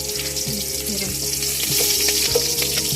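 Onions fry in a pan with a loud, close, continuous crackle and sizzle, broken by occasional stirring clinks and scrapes.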